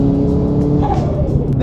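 A turbocharged Toyota GR86 running E85 revs hard at high RPM from inside the cabin, a loud continuous engine drone rising in pitch over a couple of seconds while a person talks.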